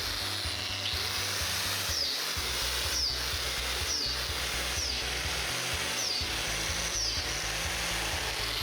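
A power drill whines steadily as it bores holes into a log for growing shiitake mushrooms, with repeated short bursts and brief pauses between holes, loud and close.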